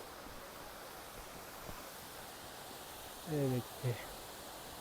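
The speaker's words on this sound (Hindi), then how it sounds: "पंचधारा वाटरफॉल, ये जो है नांदमा।" Panchdhara waterfall at Nandamali gives a steady, broad rush of falling water heard from some distance, with a short spoken phrase near the end.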